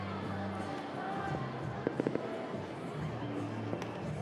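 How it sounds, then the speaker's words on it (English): Fireworks go off somewhere outside Grayson Stadium during a baseball game, a quick cluster of sharp distant pops followed by another lone crack, over a murmuring crowd and faint voices. "As some fireworks erupt"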